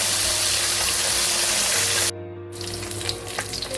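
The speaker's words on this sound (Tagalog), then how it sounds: "luto na yung ating natirang pinirito sa kawali" Fish frying in oil in a pan, a loud, steady hissing sizzle that cuts out abruptly partway and then resumes more softly with crackles.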